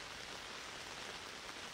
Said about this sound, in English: immerse yourself in the sounds of the raindrops